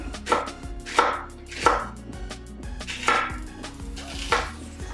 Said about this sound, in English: I'm just gonna slice it one time down the middle and then just slice it up